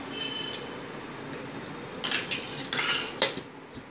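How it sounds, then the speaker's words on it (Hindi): Spices with turmeric and salt are ground coarsely in a kitchen: after a quiet stretch come several sharp clinking, scraping strokes, close and fairly loud, in an irregular rhythm. "अब मैं इसको पीस लेती हूँ"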